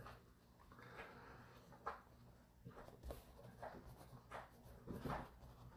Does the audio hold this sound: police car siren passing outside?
no